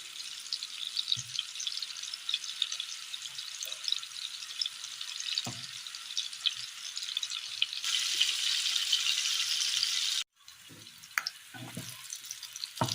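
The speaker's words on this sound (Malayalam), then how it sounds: "മസാല പുരട്ടി വെച്ചിരിക്കുന്ന മീനുകൾ വെച്ച് കൊടുത്ത് വറുത്തെടുക്കാം" Steady, crackling sizzle of masala-coated fish frying in hot oil throughout, with a few clinks and scrapes of a utensil against the pan.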